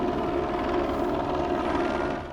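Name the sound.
police helicopter flying overhead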